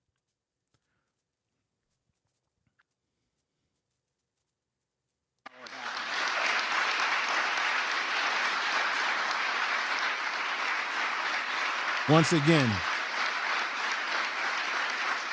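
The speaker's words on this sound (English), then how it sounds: "what are they clapping for?" A crowd bursts into sustained, dense applause after several seconds of near silence, the clapping steady and loud until the end, with a brief spoken phrase cutting in partway through.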